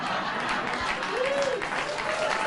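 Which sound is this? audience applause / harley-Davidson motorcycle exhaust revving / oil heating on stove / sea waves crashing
audience applause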